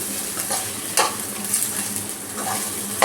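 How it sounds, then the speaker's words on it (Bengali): Egg bharta ingredients frying in hot oil in a pan, a steady close sizzle with occasional stirring scrapes and clinks of a utensil against the pan, no talking. "এই তেলটার মধ্যে আপনারা ফ্রাই করে নেবেন"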